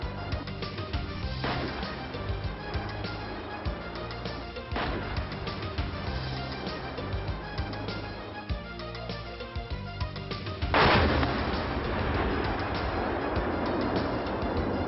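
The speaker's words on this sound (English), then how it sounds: "A number of shells from manufactured lots are test-fired to verify that the quality, reliability, and performance of the 155 bonus are in accordance with customer" Bofors 155 mm BONUS artillery shells test-fired at a range, three sharp booms spaced several seconds apart, the last loudest, each followed by a rumbling decay over a steady background bed.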